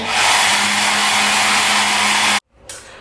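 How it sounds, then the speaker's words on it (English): A hair dryer runs loud and steady as it blows wet underwear dry after washing in a hotel sink, then cuts off abruptly, leaving brief quiet and a faint rustle. "blow drying it dry with a hairdryer"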